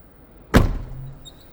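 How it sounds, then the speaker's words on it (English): The door of a top-of-the-range Knaus Sun i900 motorhome opening with a single sharp thunk, followed by a brief low whirring hum as the entry step slides out, close and clear. "When you open the door, the step comes out."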